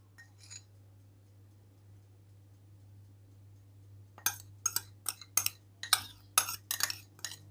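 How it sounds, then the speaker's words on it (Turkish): Clinking of a utensil against a dish while oven-baked potatoes are stirred with spices, a burst of quick, irregular near taps after a quiet stretch with a low steady hum. "Şu şekilde biraz onun üstünü yeşillikleri koymadan baharatla birlikte karıştıralım."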